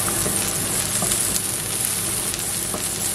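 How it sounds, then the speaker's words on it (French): Onions sauté in a pan with a dense, steady crackling sizzle, close and even, broken by a few faint stirring clicks and without any talk. "Toujours prendre le temps de faire revenir les oignons"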